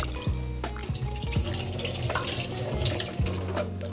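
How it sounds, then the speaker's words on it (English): Carrots get a final rinse under a running kitchen tap, with a steady stream of water splashing and trickling into the sink for several seconds and no talking. "Let me just give them one more final rinse."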